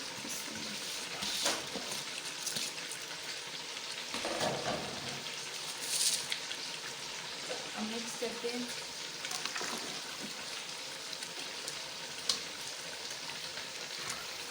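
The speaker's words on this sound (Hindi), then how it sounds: "चावलों को पानी को उबाल आ चुका है। तो अब मैं इसके अंदर चावल ऐड कर रही हूँ।" Rice is added to boiling water in a pot for Afghani pulao, giving a steady close sizzling, bubbling sound with occasional louder splashes and stirring.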